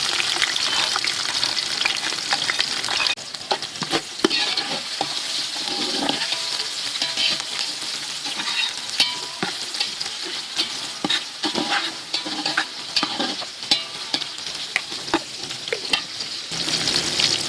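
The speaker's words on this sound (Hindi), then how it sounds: "प्याज ब्राउन हो गया" Sliced onions fry in hot oil in a village-style kitchen while a spoon stirs them, a steady close sizzle with scraping and clinking strokes throughout.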